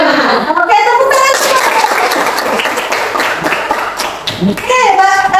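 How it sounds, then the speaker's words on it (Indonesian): Schoolchildren clapping their hands in a classroom, loud, fast, dense clapping close by with a few children's voices calling out over it. "Oke, tepuk tangan."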